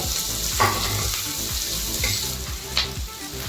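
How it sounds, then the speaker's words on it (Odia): Chopped onions frying in hot oil with whole garam masala, a steady broadband sizzle with occasional sharper spatters and faint stirring, close and continuous. "ପିଆଜକୁ ବର୍ତ୍ତମାନ ଏଥିରେ 2 ମିନିଟ୍ ଖଣ୍ଡେ ଭାଜିଦେବା"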